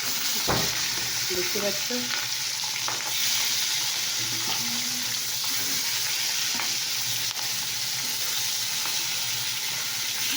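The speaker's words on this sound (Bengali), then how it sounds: "তো এবার আমি মাছের পিস ছেড়ে দিলাম তেলে" Fish pieces fry in hot oil with a steady, loud, close sizzle and crackle that lasts throughout, broken by a few clinks and scrapes of stirring, while a voice speaks briefly near the start.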